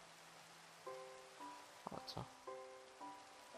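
Rain falling in Minecraft at night, a steady soft hiss running under the whole stretch, with game tones and a brief spoken question over it.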